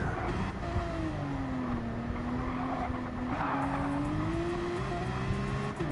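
A Porsche race car in Gran Turismo 7 brakes heavily without ABS, engine droning with a sweeping pitch dip and tire scrub, loud and continuous, then pulls away in second gear.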